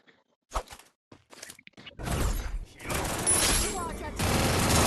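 Free Fire video game gunfire rattles loudly in bursts of rapid shots during the second half, following sparse thuds and clicks, with voices of players chattering.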